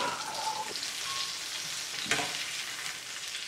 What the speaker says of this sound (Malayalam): ബാക്കിയുള്ള മീനും നമുക്ക് ഇതുപോലെ തന്നെ വറുത്തെടുക്കാം